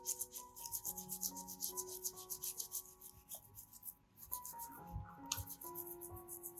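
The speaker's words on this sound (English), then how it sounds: "Now, I'll use the brush to scrub again," Fresh ginger root being scrubbed with a brush after soaking, with close, steady bristly rubbing strokes that keep a brisk rhythm over soft background music.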